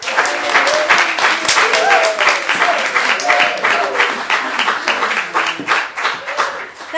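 Loud, sustained applause from a concert audience for a singer fills the room, dense clapping running steadily throughout, with voices and cheers mixed in.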